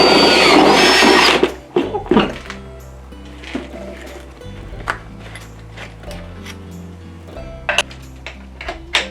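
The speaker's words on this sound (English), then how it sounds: "Now with a 1/4 inch drill bit, you want to expand the center hole that you just made." Power drill with a quarter inch bit widening a center hole, a loud burst of motor whine at the start, then quieter intermittent whirring and clicks as the bit works the material.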